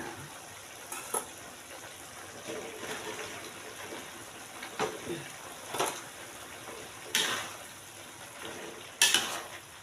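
Peanuts tossed into a pan with cooked shrimp and stir-fried, bringing soft sizzling under recurring scrapes and clinks of a utensil against the pan, fairly quiet and close.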